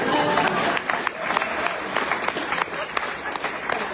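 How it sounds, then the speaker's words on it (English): An audience at a poetry book launch for a collection of tallgrass poems gives a steady round of applause, with dense clapping from a room full of people continuing throughout at a fairly close, even level. "we'll give you a round of applause"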